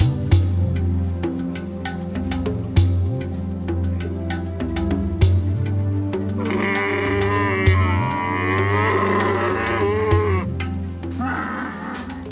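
A herd of sheep crossing the desert in Niger, bleats rising over a steady low drone with sharp intermittent knocks, the calls wavering and layered through the later part.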